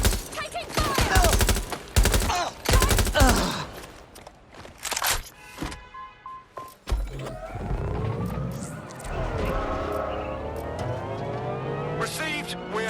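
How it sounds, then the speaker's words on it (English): Rapid bursts of gunfire in the video game Watch Dogs: Legion crackle loudly through the first few seconds, then give way to scattered shots over a rising engine and in-game voices. "Taking fire!"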